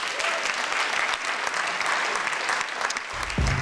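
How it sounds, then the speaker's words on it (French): An audience at a French journalism awards ceremony claps for a prize-winning magazine and publisher, producing sustained, even applause at moderate volume, closing with a brief low thump. "On peut les applaudir."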